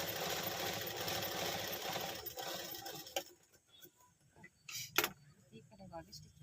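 A sewing machine runs steadily for about three seconds stitching the body seam of a nightie during a shoulder alteration, then stops, leaving quiet handling noises and a few sharp clicks while a person talks.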